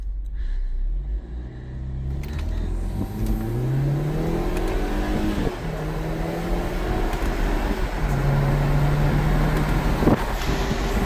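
A BMW G20 320i engine in Sport+ mode revving and accelerating, heard inside the cabin, low muffled rumble rising in pitch through the gears with steady road noise.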